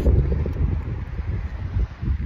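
Breezy wind buffeting outdoors on a walk, low rumbling gusts against the microphone, loud and close for a couple of seconds.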